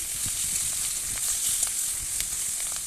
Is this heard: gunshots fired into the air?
no